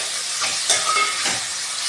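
Soaked moong dal sizzles in a hot pan, a steady bright frying hiss with faint stirring scrapes, no voices.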